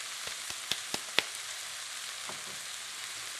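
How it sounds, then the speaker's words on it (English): Onions fry in a pan on the stove, giving a steady broad sizzle with a few sharp pops and crackles near the start, close and alone. "I'm going to fry these onions up until they're brown and caramelized."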